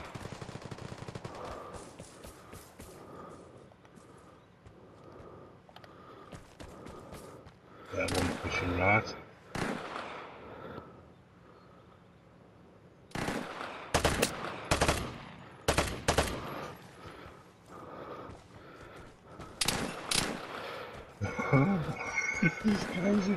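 Gunfire in the PS5 game Vigor arrives in bursts, a few faint shots at first and then louder rapid volleys and automatic strings, with someone talking between them.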